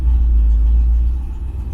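A car fitted with ACES EFI Killshot fuel injection, its engine still warming up, pulls away with a deep, steady, close rumble that softens slightly near the end.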